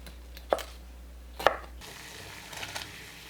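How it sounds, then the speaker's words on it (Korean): Broccoli being roughly chopped with a knife on a cutting board for rice balls: two sharp, separate chops about a second apart, followed by a few faint clinks and light kitchen sounds. "브로콜리를 대충 자릅니다"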